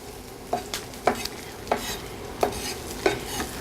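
Gator sauce stirred in a pan alongside cooking onions, a spoon scraping in about six evenly spaced strokes over a soft background sizzle, close and fairly quiet with no talking.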